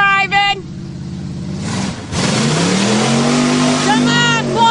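Vehicle driven by Polly revving through a mud bog at an Orleans mudbog event, the engine rising in pitch as it accelerates, loud and close, with people talking and cheering over it.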